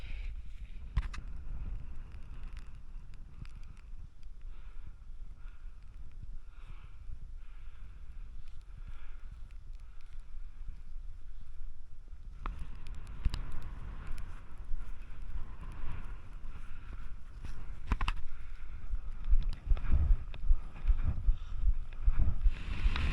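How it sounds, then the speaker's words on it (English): Strong wind gusts over an exposed mountain ridge in Snowdonia, Wales, near Carnedd Y Filiast, roaring steadily against the microphone and rising into louder, buffeting blasts partway through. "So the wind's really starting to pick up now"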